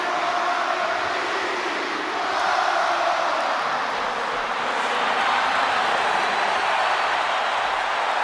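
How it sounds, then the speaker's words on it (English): Arena crowd in a WWE 2K wrestling game, a dense, steady roar of cheering that swells slightly partway through and holds loud throughout with no clear talk. "this capacity crowd just exploded"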